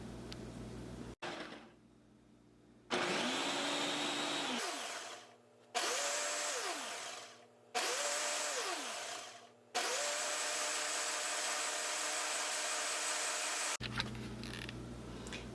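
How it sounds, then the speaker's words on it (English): A blender whirs through green juice with lemon pulp in several loud pulses of motor roar, with short pauses where the pitch winds down and back up, then one long sustained run before it stops. "then I'm going to give this a blend"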